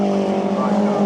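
Mini race cars lapping a circuit at a British Touring Car Championship meeting give off a steady, loud engine drone for the whole moment, with voices faintly in the background.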